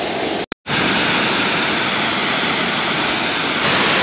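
Ronca e Funga waterfall at Arapoti, Paraná, roaring loud and close as a dense, steady rush of falling water; a brief dropout near the start, then continuous noise with no voices.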